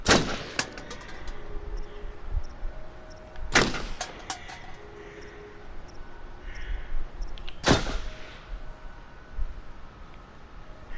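Gunfire from a prone shooter in the horror video game Until Dawn: three heavy, loud gunshots spaced a few seconds apart, with lighter clacks and a low ambient rumble between them.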